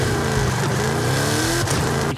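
A Chevrolet Camaro Pro Stock drag car in Forza Horizon 5 roars loudly and steadily at high revs, its engine drone rising and shifting pitch throughout, with no voices.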